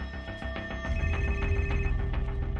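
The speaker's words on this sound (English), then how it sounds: "the phone starts ringing with tips." A telephone rings in repeated electronic bursts, loud and close, with no voices over it.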